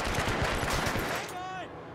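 Rapid gunfire from the video game Hitman: Absolution, a close, loud burst of repeated shots filling the first second, then fading into a thin ringing tone.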